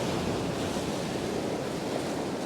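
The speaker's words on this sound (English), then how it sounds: "that wind's got really fresh." A strong, fresh wind blows by the sea at Sandbanks, a steady, dense roar of gusting air and surf buffeting the microphone with no letup and no voices.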